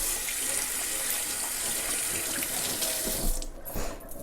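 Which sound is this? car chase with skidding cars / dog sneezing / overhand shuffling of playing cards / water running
water running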